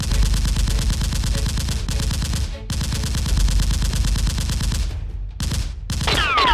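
Nerf guns fire in a Nerf war battle, a loud, continuous rapid clatter of shots broken by a few short pauses near the end, with no talking.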